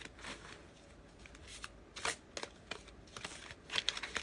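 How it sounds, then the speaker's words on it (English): Glossy tarot cards being shuffled by hand give off quiet, rapid papery slaps and sliding riffles in irregular bursts, close by with no voices over them. "practice shuffling. Trying to shuffle."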